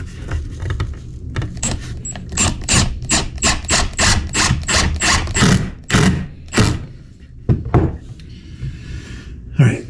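Impact driver sinking screws into a wood fence, a run of about a dozen rapid hammering bursts in quick succession, loud and close, followed by a few scattered clacks and handling noises.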